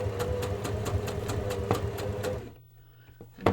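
A sewing machine stitches along a thick fabric edge with a fast, even needle clatter, then stops abruptly, leaving a quiet pause before a final small knock.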